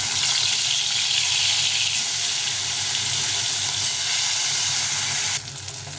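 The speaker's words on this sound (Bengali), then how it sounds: "বাকি মাছগুলো ভেজে নিই" Bata fish frying in oil give off a loud, hissing sizzle that holds evenly for several seconds, then drops abruptly to a quieter crackle near the end, close and with no talk.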